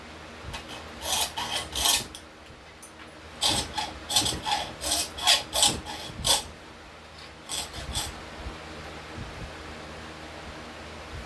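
An 18-tooth blade saws through whitetail deer bone in close, loud bursts of rasping strokes, grouped in rhythmic runs with short pauses between them and no voices.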